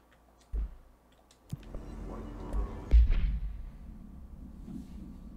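The Spin machine gun in the game Control fires in a short burst with a sharp crack and chattering rattle, following a couple of isolated clicks, set against quiet game ambience.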